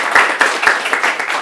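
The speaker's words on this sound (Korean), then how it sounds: "여러분 다시 한번 박수 부탁드립니다" An audience at an AI and design panel discussion claps for a professor being introduced, a brief burst of scattered, overlapping handclaps with no voices.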